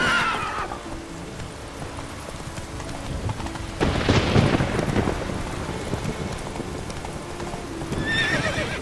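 Roach, a horse in The Witcher 3, gallops with steady clip-clop hoofbeats, and a loud whinny rises midway and again near the end over a faint background rumble.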